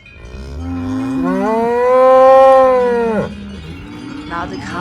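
Cattle mooing in a Swiss cow parade as the herd returns from alpine summer pasture to the farms; one long, loud, close moo swells and fades, followed by fainter lowing.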